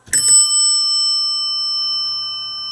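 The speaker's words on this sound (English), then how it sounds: "So the first bell we have is the Adams bell." An Adams elevator bell, struck once by a solenoid hammer, gives a single loud, bright ding whose clear metallic ring lingers and slowly fades for over two seconds, with no voices.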